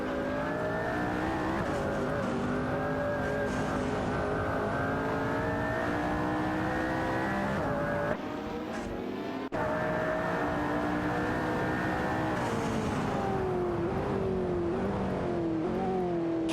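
Race cars in an AI racing video game hold a continuous engine whine at high revs, shifting pitch through gear changes, with a brief drop in the middle before the drone resumes.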